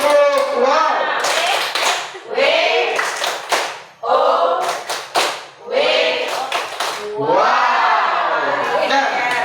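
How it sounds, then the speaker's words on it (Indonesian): A group of teachers in a school setting claps hands in short rhythmic bursts broken by pauses, mixed with lively cheering and shouting voices, loud and close throughout. "Kita berikan tangan dulu."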